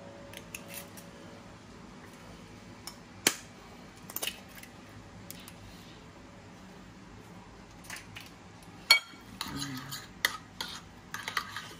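Two eggs being mixed in a bowl for a Filipino eggplant omelette (tortang talong): scattered light clinks and scraping taps, quiet and close, with short bursts of sharper strokes.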